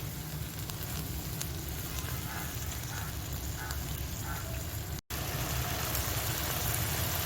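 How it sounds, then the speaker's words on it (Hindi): Vegetables frying in a pan with lemon juice give a steady, close sizzle that runs evenly throughout, with faint clinks now and then and no talking. "और साथ में इसमें लेमन जूस डाल दीजिए और इसको भी 1-2 मिनट फ्राई कर लीजिए।"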